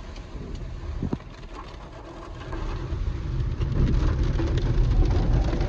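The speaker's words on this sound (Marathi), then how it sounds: "खूप जोरदार असा पाऊस चालू आहे" Heavy rain falls outside in Nashik, heard from inside a moving vehicle as a broad, steady hiss over low engine and road rumble that swells louder toward the end.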